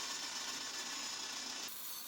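Power drill at medium speed spins a wooden blank on a screw, giving a continuous hissing, rasping whir of wood rubbing against the tool for about two seconds before the sound drops a little.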